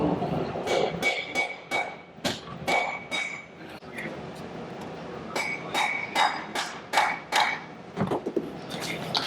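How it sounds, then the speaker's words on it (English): Speedy rivets are set onto the straps of a custom ankle-foot orthosis, sharp metallic hammer taps struck in quick irregular bursts, close and loud, with brief pauses between groups. "We'll just rivet them on with speedy rivets and we'll be set."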